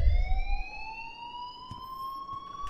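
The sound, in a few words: fire alarm ringing in video game Life Is Strange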